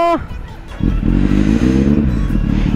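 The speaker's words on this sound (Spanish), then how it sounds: "Arrancamos la moto." A brief voice is heard, then a motorcycle engine catches and starts, settling into a loud, close, steady rumbling idle.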